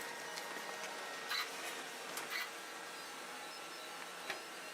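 An FLSUN QQS 3D printer runs its first test print, giving a steady, fairly quiet mechanical whir with faint whining motor tones and a few small ticks and buzzes.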